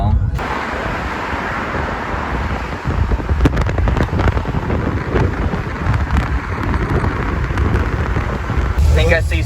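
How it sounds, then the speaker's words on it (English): Heavy rain pours on a car during a road trip drive, a dense steady hiss of drops on the roof and windshield over low road rumble, with sharper splashes and crackles throughout. "It wasn't raining like 2 minutes ago, and now we're in the middle of this."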